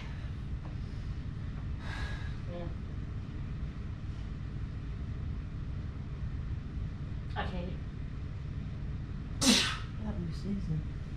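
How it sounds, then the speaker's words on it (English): A couple of sneezes, with a sharp loud one near the end, over steady low background hum and some faint breathy sounds. "Got me sneezing."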